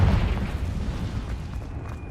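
A Confringo fire spell bursts in Hogwarts Legacy, heard as a deep booming explosion at the start that rumbles and fades over two seconds.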